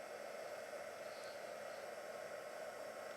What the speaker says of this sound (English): So using my heat gun.